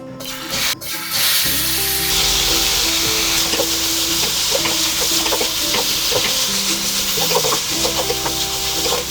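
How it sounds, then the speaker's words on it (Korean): Sesame oil in a heated pan for beef and seaweed soup with Korean beef, a loud, steady sizzle following an initial clatter, with stirring scrapes breaking through now and then. "먼저 팬에 열을 달군 다음에 네, 참기름을 먼저 한 두 바퀴 정도 돌려줍니다"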